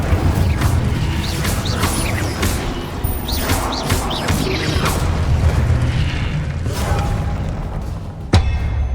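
Blasting-spell explosions in the Hogwarts Legacy video game during an Ancient Titan boss battle, a dense, loud continuous rumble of booms and crashes with a sharp thud near the end.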